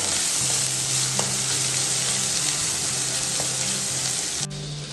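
Turmeric and ginger fry in hot oil as the base for a Telangana-style fish curry, giving a loud, steady sizzle and crackle that carries on unbroken from start to finish, with no talking.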